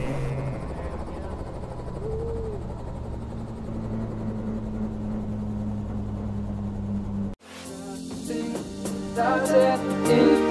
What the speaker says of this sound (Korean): 천천히 하강해서 경납고 앞에 헬기를 주차했죠